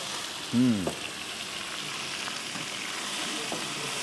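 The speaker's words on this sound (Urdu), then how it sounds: "اس کو ہم نے بھون رہے ہیں، تھوڑا سا پانی ڈالیں گے تاکہ پیاز نہ جلے" A steady, soft sizzle of food frying in a pan runs throughout, with a brief clatter near the start.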